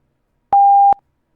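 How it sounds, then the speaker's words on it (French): A single clean electronic beep from cheat software for the game Warzone, a steady mid-pitched tone lasting under half a second, loud against silence. "on entend le bip, c'est que le cheat s'est bien injecté"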